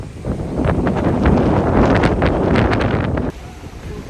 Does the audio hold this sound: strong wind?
yes